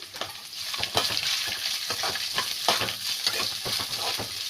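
Onions frying in a pan for potato palya, a steady close sizzle broken by frequent scraping stirs with no voices.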